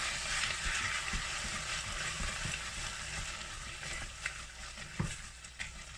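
Pasta sauce bubbling in a pan on a home cooker, a soft continuous sizzle with a few faint clicks and knocks from stirring near the end.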